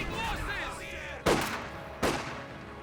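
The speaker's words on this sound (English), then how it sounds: "Double machine guns, though." Two separate gunfire bursts from dual machine guns in a competitive WWII strategy match, sharp and loud against a low background hum, spaced under a second apart after a quieter stretch.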